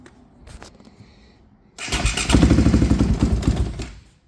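A Polaris 450 Outlaw ATV engine, over-primed, cranks and catches: a quiet sputter first, then a loud rough running burst of about two seconds with rapid firing pulses before it fades.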